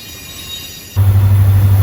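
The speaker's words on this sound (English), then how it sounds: "when they're pulling a long unit corn train from CSX" A CSX freight train rolls through Aberdeen, North Carolina, its loud, close rumble and low engine drone starting abruptly and holding steady, with wheel and rail noise layered over it.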